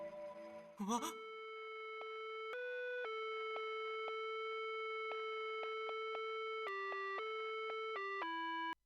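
After a brief noisy burst, a pure, beeping sine-wave melody played on a tracker holds steady notes in a simple retro game-style tune, clean and alone.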